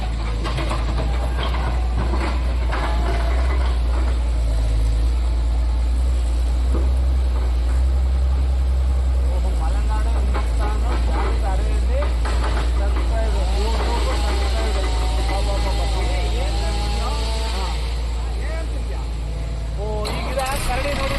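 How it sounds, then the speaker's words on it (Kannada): Swaraj and Sonalika tractor engines drone in a deep, continuous low rumble close by, with mechanical clatter and rising revs, while someone talks over them throughout. "ಈಗ 3 ಗಾಡಿ ಬಂದಿದೆ ಇಲ್ಲಿ, ಸ್ವರಾಜು, ಸೊನಾಲಿಕಾ"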